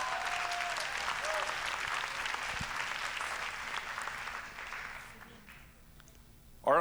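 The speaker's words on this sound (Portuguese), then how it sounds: "Esse é um belo aplauso de golfe." A church congregation gives a polite round of applause, an even, moderate wash of many hands clapping that slowly tapers off before a voice cuts in at the end.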